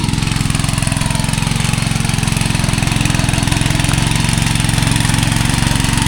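A petrol power tiller ploughs a waterlogged paddy field, its engine chugging steadily and loudly up close with a fast, even mechanical pulse throughout.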